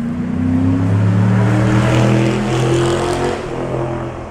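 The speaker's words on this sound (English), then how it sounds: "It's a Scirocco." Volkswagen Scirocco racing at a hill climb event, its engine roaring loud and close as it accelerates past, the pitch climbing before easing off, with no talk.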